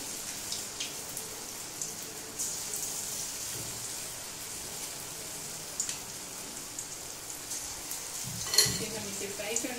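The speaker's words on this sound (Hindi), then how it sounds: "तेल गरम है, हम एक एक चम्मच बेटर लेंगे और पकौड़ा छोड़ते जाएंगे।" Spoonfuls of pakora batter fry in hot oil with a faint, steady sizzle, broken by soft pops and a brief louder bubbling burst near the end.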